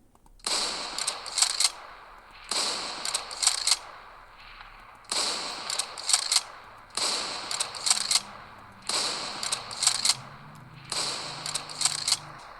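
Repeated bursts of gunfire from an EVP weapon in a modded video game, shot at a mob: five or six loud clusters of rapid shots, each lasting about a second and a half, spaced by short pauses.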